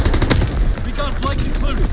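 An artillery battery fires in a war video game, loud repeated booming shots overlapping with bursts of gunfire while radio-style voices talk over the barrage.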